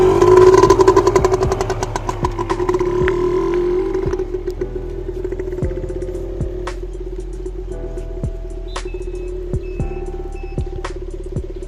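A vehicle engine that has just been started on a driving-test circulation course idles steadily and loudly up close. The engine's hum settles slightly over time, with periodic sharp clicks and faint beeps, and no talking.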